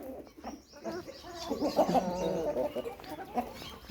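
Several chickens cluck and squawk close by in a busy, overlapping burst, with a short quieter stretch at the start.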